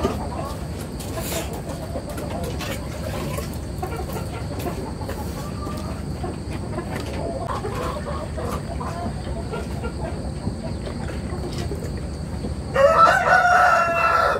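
Chickens cluck over a busy farmyard background, with a rooster crowing loudly near the end.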